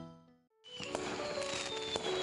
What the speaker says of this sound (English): The community is full of people setting off fireworks.